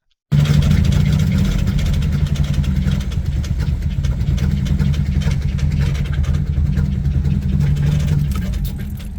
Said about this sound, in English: This thing was making some of the worst noises I've ever heard out of any of these engines before